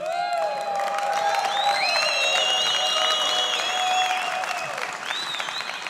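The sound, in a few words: audience applause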